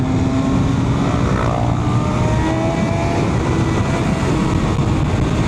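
MV Agusta 200 hp motorcycle engine on throttle, a loud, sustained high-revving roar with a rising tone over rushing wind noise, no talk.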